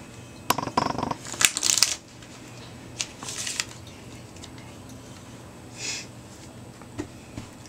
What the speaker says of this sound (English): Just let the audience know that you are shuffling the cards